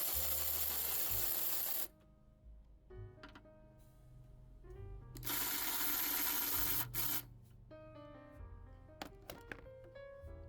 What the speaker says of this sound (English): We're going to use a 13mm socket with extension to remove both of these bolts.